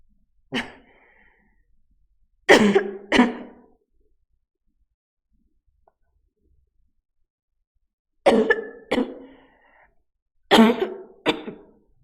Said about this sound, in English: I've been coughing so long.